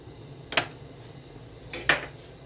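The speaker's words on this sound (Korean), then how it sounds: "물을 여분으로 한쪽에서는 끓이면서 젓고 있습니다" A spoon stirs sweet red bean porridge in a cooking pot, making two brief scraping clinks against the metal, faint and well apart, with no talking.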